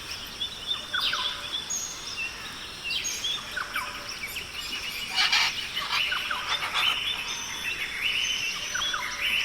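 Macaws calling in the Guyana rainforest, a series of harsh, raspy squawks and shrieks rising in loose bursts, moderately near, over a dense, hissing jungle background.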